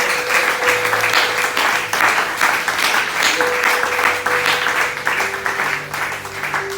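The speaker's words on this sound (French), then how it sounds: "Est-ce que tu peux acclamer le Seigneur?" Church congregation applauding and cheering in praise of the Lord during a worship service, sustained loud clapping and crowd noise with a steady organ or keyboard tone beneath.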